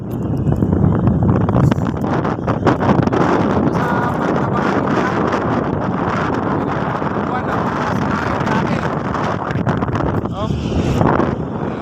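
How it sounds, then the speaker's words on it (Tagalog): Strong gusts batter the microphone on a hanging bridge, a steady loud roar of wind buffeting throughout, with voices faintly talking beneath it. "Lakas ng hangin, ane po."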